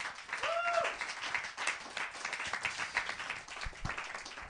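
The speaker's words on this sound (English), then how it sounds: "So a round of applause once again for one mother on the stage." Clapping from a small audience for a performer on stage at a live comedy-style show, faint and scattered, with a brief vocal whoop early on.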